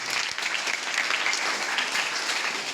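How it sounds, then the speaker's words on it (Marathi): Audience applause for dignitaries at a school event in Kalamb: a dense, continuous round of clapping from a crowd, fairly loud and even throughout, with no talk. "आपण सर्वांनी एकदा या सर्व मान्यवरांसाठी जोरदार टाळ्या वाजवायच्या"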